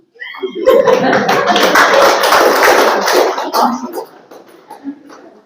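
An audience at a Brahma Kumaris spiritual talk gives itself a burst of clapping, loud dense applause for about three seconds that then tapers into scattered claps.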